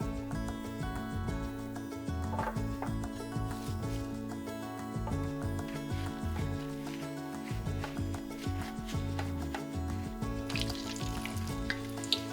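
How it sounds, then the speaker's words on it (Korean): Steady sizzling and crackling of potatoes deep frying in hot oil, continuous throughout, with a tonal music-like layer running underneath. "기름 온도를 알맞게 올려 감자를 튀기는데 2번 튀기면 더 바삭해진다"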